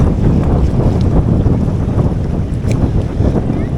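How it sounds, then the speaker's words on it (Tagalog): Strong wind roars and buffets the microphone continuously on a freshwater lake in Laguna, a loud, dense rumble with hints of water and boat noise underneath. "dahil malakas yung hangin"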